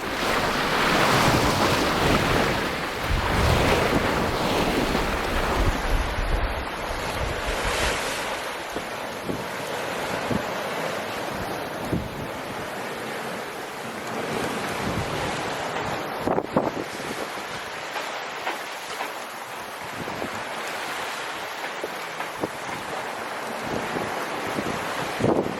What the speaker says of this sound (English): Going east in the Caribbean means against the waves